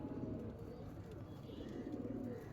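High-flying Madrasi pigeons coo softly and low in a loft, a faint repeated throaty murmur over a quiet background hum.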